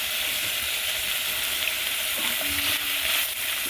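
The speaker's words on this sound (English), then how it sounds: "I'm going to wait until there's char on these sausages and turn it down just a tiny bit" Sausages fry in olive oil in a pan, giving a steady, close, even sizzle with light spattering throughout and no talk.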